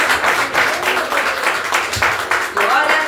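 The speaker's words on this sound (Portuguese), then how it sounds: "dá uma salva de palmas para Deus." Church congregation clapping in praise during a worship service, a loud, uneven patter of many hands mixed with voices and cheering, rising and falling in waves.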